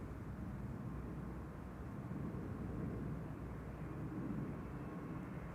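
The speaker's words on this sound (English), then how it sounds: "First up, Air France flight 1501 to Paris. Bombardier C Series 300." A steady, low engine roar comes from an Air France Bombardier C Series 300 airliner departing Amsterdam Schiphol Airport, a constant distant rumble with no voices.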